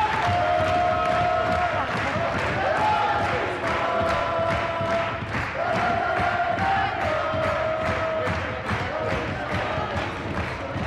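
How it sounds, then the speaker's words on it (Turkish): A studio audience on the Turkish game show Var mısın Yok musun applauds Adriana Lima, a loud, continuous clatter of hands and crowd noise with a voice speaking over it. "Adriana Lima'yı alkışlıyoruz."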